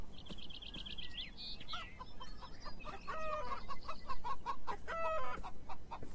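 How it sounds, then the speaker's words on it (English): Chickens in the video game Beyond Eyes cluck and chatter in overlapping bursts, with a rapid trill at the start and busy, close clucking throughout, no voices present. "chickens?"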